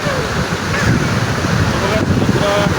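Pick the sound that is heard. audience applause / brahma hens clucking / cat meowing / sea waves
sea waves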